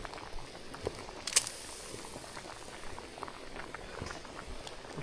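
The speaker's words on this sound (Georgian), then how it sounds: "ესეთ დუღილის პროცესში" Sweet corn boils in a pot of water, a faint, close bubbling patter with small irregular pops and one brief clink, no talking.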